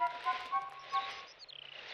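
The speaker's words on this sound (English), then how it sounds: "Oh, I heard the bird chirping now." Soft, brief bird chirps from the game Chibi-Robo, a few tonal tweets followed by a quick fluttering trill, faint and close.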